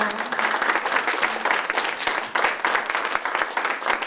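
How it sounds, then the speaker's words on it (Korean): Audience applause right after a live song performance at a Korean talk event, lively and close clapping with distinct individual claps standing out from the crowd, holding steady for the whole stretch. "박수 쳐주셔 감사합니다"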